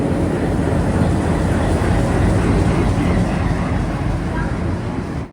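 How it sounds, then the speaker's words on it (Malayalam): Navyug Express train rolling into platform 2 at Tirupati railway station, a loud, steady low rumble of wheels and engine that holds throughout and cuts off at the very end. "2-ാം നമ്പർ പ്ലാറ്റ്ഫോമിലേക്കാണ് ട്രെയിൻ പോകുന്നത്."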